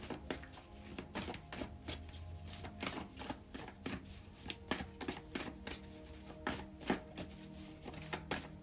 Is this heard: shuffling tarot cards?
yes